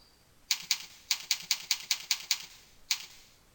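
Keystrokes on a computer keyboard, a quick run of about eight crisp clicks followed by one last isolated tap, close and clear in a quiet room.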